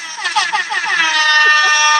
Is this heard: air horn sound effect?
yes